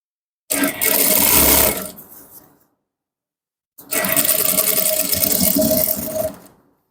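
A sewing machine top-stitching a folded loop on a pair of shorts runs in two steady bursts of about one and a half and two and a half seconds, separated by a short pause, close and alone.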